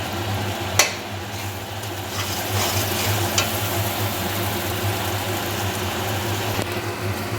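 Prawn curry with chili powder being stirred in a hot pan, a soft steady sizzle with faint scraping and a few sharp clinks of the spoon against the pan, fairly quiet and close.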